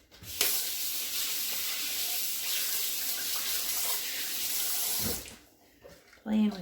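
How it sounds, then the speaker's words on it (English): Tap water runs steadily for about five seconds as hands are rinsed under it, then the flow stops, leaving faint handling noise and a short spoken phrase. "1 second while I rinse my hands off"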